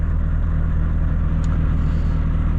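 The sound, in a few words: Volvo FH 540 truck engine running while parked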